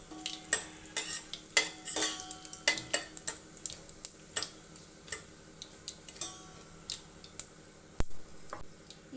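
Mustard seeds, cumin and a broken Byadagi chilli tempering in hot oil for rasam, sharp irregular pops and crackles spattering close up over a soft sizzle, with a spoon clinking against the pan.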